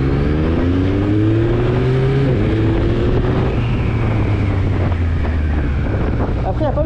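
A Yamaha MT-09 SP motorcycle pulls hard along a straight, its engine note climbing steadily through the gears under heavy, constant wind rush, loud and close throughout.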